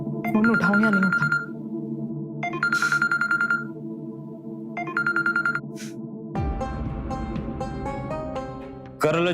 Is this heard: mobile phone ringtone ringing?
yes